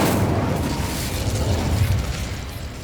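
The Incendio fire spell is cast in Hogwarts Legacy with a loud, roaring whoosh-burst of flame that swells at once and rumbles steadily across the clip.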